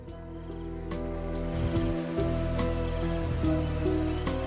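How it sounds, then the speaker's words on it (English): Soft, steady rain ambience in the Spirit City Lofi Sessions game plays alone as a continuous patter with scattered drop ticks, under a low, sustained lofi music bed. "Let's say I wanted the sound of rain,"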